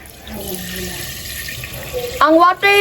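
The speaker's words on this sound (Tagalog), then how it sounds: "Ang sunod na hakbang natin is maglalagay tayo ng water." Water is poured from a tap or container into a pot for cooking Buldak noodles, a steady running splash under background chatter, ending in brief gurgling bursts.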